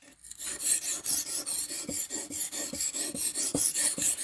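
A steel butter knife's edge being refined with a file, a steady series of about fifteen evenly spaced rasping strokes, close and clear with no voices.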